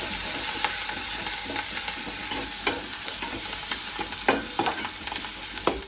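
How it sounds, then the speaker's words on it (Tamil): Onions and curry leaves stir-fried in a pan for a crab dish, a steady sizzle with repeated scraping and clacking strokes of a spoon, close and alone without speech. "கருவேப்பிலை போட்டு நல்லா மிக்ஸ் பண்ணி வெங்காயம் போட்டு நல்லா மிக்ஸ் பண்ணி"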